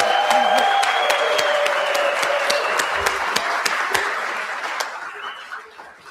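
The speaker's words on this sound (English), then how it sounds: "let's give them a round of applause too" A conference audience gives a round of applause, with steady, fairly loud clapping and scattered sharp claps that gradually thin and fade, with voices and a little laughter underneath.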